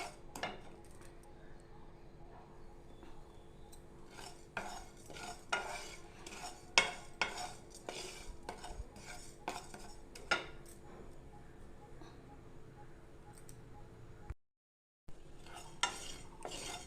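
Spices dry roasting for red chili pickle are stirred in a pan, a utensil repeatedly scraping and clinking against the metal with a faint sizzle, quiet and close, with a short silent gap near the end.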